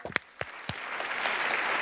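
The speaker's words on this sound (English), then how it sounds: "So let's give them a round of applause." A few sharp individual claps come first, then fuller applause from a gathered audience builds and holds steady.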